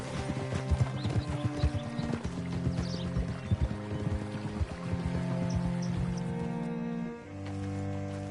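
Steady clip-clop of horse hooves at a walking pace in Red Dead Redemption 2, close and distinct, layered over a busy musical score that swells toward the end.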